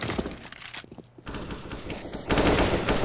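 Rapid automatic gunfire from Counter-Strike: Global Offensive crackles in short, sharp bursts, with a brief lull before a denser volley near the end.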